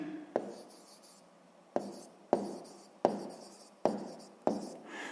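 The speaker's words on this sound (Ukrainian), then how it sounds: "Давайте я тут внизу запишу, бо там не поміститься" Pen writing by hand on paper during a sixth-grade maths exercise, a series of close, distinct strokes with sharp taps starting each one, repeating roughly every second with no talk.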